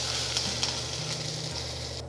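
Mixed vegetables fry in a pan with a constant dense sizzle, up close and steady, with faint scraping stirs here and there.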